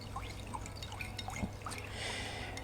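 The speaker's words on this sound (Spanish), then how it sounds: "Voy a hacer un agua, digamos, saturada de azúcar" Water poured to make a sugar syrup for sweetening a pastry dough: a faint, continuous trickle and splash of liquid, quiet and close, with no voices.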